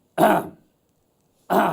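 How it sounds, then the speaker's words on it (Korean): Someone nearby clears their throat twice, two short gruff bursts separated by a second of silence. "목에 이물질이 끼어서 헛기침을 하는 사람들이 많습니다"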